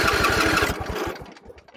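A John Deere L series riding lawn mower engine cranks with rapid rhythmic chugging, catches and then settles, loud and close.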